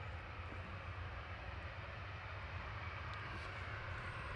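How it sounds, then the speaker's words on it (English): A Jet2 Airbus A321 arriving from Tenerife lands at Manchester Airport with a continuous low engine roar that holds steady and sounds fairly distant. There are faint high ticks but no speech. "Coming in from Tenerife A321 G Sun W."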